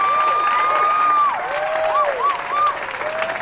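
A crowd at a bowling alley's grand reopening applauds, steady clapping with some cheering while a voice rises and falls over it.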